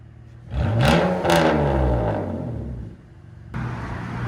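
A 2002 BMW Z3 with a 3.0L inline-six and true dual straight pipes revs hard, its raw exhaust climbing and falling in a loud, close snarl, then settling to idle.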